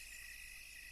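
Crickets chirp at night beside a river, a steady high, unbroken trill that sounds faint and distant in an otherwise still setting.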